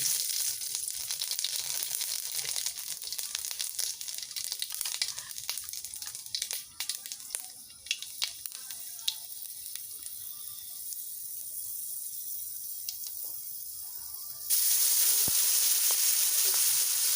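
Seeds spluttering in hot oil make a continuous close hissing sizzle with scattered crackles, swelling louder near the end, while cooking for a hilsa fish curry.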